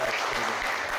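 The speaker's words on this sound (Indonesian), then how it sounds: "Tepuk tangan." A short burst of applause from a group during a talk show, dense and steady throughout, moderately loud with no voices over it.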